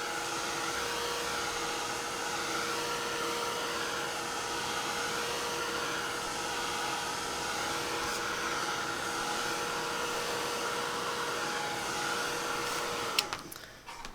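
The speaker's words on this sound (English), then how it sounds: "I'm going to, again, hit it with the heat gun" A heat gun blows hot air steadily over a papercraft card front, a loud continuous whooshing roar with a faint tonal hum, running alone until it cuts off abruptly near the end.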